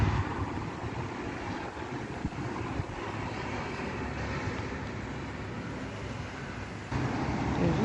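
Steady, roaring wind noise fills the whole stretch, broadband and unbroken, swelling slightly louder near the end, with no voices.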